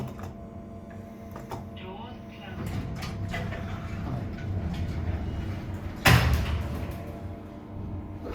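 Lift doors and the hum of an elevator car in a shopping centre, with low mechanical rumble building partway through, a sharp loud door thud near the end, and talking over it.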